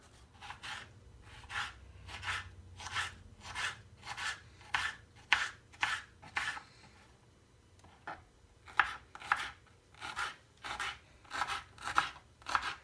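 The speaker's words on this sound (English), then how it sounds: "cut our onion and continue cutting everything else" A knife chops onion and peppers very finely for fish ceviche, making close, crisp strokes in quick regular bursts, with a short pause partway through.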